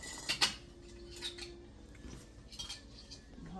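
Metal canning jar lids clink and clatter as they are dunked into hot water in a kitchen, with a few sharp close knocks followed by quieter scattered taps and rattles.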